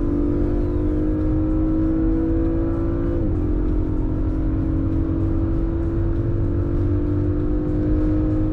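Audi RS6 and RS5 running together around the Interlagos circuit, a loud, steady engine drone with a pitch shift partway through as the cars pull along, continuous and close with no talking.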